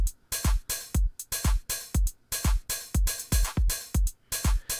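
A basic Deep House drum pattern from the Reason Kong Drum Designer kit plays, with punchy kicks on a steady four-on-the-floor pulse and crisp hi-hats and claps filling the offbeats. The loop is clean, loud and alone.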